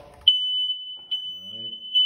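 Interconnected household smoke detector going off in a second bedroom, a loud, piercing steady high beep that sounds continuously, with faint muffled voice and movement noises underneath.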